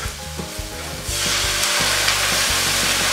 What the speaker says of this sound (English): You hear that? All sizzling.